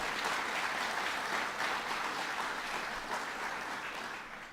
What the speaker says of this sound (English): Let's give them a round of applause and thank them for what they do.